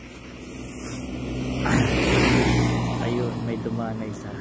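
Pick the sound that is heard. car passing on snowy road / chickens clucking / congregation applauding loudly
car passing on snowy road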